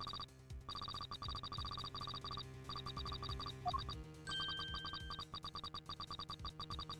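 A phone rings in the Ace Attorney Investigations video game as a repeating electronic trill in rapid pulsing bursts, with a brief break partway, over a low musical backing.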